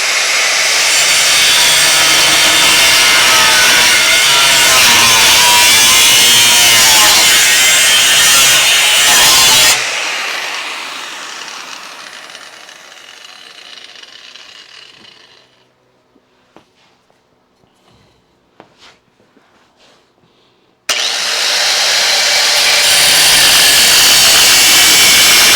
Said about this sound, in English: I'm just having trouble getting at it with the grinding wheel.